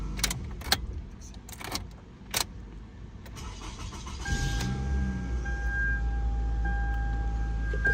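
2010 Toyota Camry engine cranking to life after key programming, preceded by a few sharp clicks and key jingles, then settling into a steady idle hum with a chime tone, close and alone.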